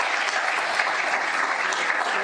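A conference audience at a STOA high-level event on academic freedom applauds its panelists with dense, loud, sustained clapping from many hands, even throughout.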